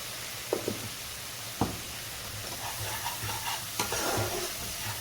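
Masala with salt being sautéed in a pan for a Bengali katla fish kalia, steady frying hiss broken by a few sharp scrapes and clinks of a stirring spoon, close up.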